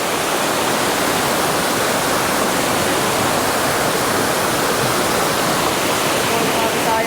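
A river rushes beneath a bridge near Yunsen waterfalls in Taiwan, a dense, unbroken roar of moving water that is loud and close from start to finish.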